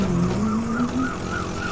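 A car engine revs and speeds up on a road, a fairly loud rising whine that climbs in pitch several times over under two seconds, with no talk.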